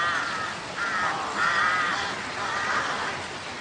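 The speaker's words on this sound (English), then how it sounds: "Carrion crows." Carrion crows caw in a series of harsh, repeated calls over a hissing outdoor background, fairly loud and evenly spaced.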